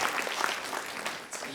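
Audience applause at an awards ceremony for Slovenian public administration days, a dense steady patter of many hands clapping at moderate volume.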